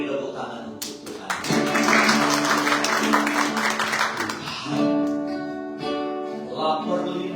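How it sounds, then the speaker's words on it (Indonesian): A church congregation at Indonesia Living Bread Church in Los Angeles breaks into applause for several seconds, dense clapping mixed with music that carries on as the clapping fades. "Beri tepuk tangan untuk Tuhan."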